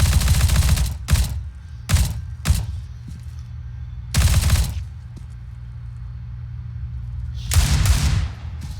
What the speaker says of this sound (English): Ace at bomb side A, pretty sick shot on Marshall.